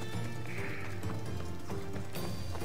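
A horse galloping in the video game Assassin's Creed Odyssey, hooves clip-clopping in a quick rhythm close by, with a whinny and other game ambience mixed in and no speech.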